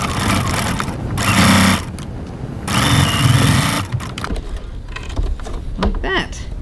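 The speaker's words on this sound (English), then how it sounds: "I'm going to stitch this seam" A sewing machine stitches a seam at a 2.4 stitch length with a 1 cm seam allowance, running in two loud steady bursts separated by a brief pause, followed by quieter handling noises.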